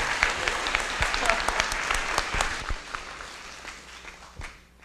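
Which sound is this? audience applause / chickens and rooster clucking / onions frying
audience applause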